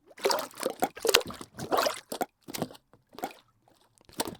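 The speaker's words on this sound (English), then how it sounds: "So that's how it sounds with the water dropping." A library water-dropping sound effect plays as a series of short liquid drips and plops with trickling bursts, separated by brief silences, fairly close and clear.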